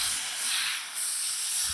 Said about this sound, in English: I'm not doing anything other than letting the steam do the work for me.